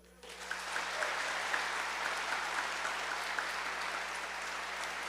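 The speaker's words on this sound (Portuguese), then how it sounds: "Você pode aplaudir?" Sustained applause from a church audience during a sermon, a dense steady wash of many hands clapping that starts abruptly and holds at even loudness to the end.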